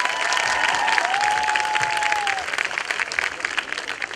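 Graduation ceremony audience at a university applauds in a full, sustained round of clapping that thins slightly toward the end, with a brief tonal whistle or feedback over it.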